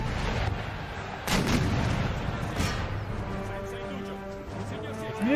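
Light howitzers firing in the Empire Total War video game, a couple of deep booming shots over a rumbling battlefield backdrop, with someone talking faintly beneath.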